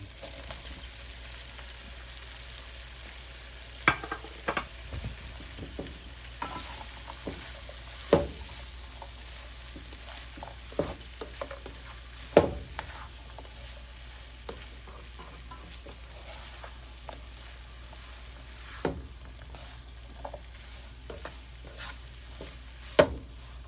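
A stir fry sizzles on a grill while it is mixed, a steady frying hiss broken by sharp scraping and clacking stirs at irregular intervals, with no talking.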